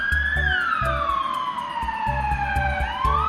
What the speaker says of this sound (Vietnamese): À, đây là bạn xe cứu thương.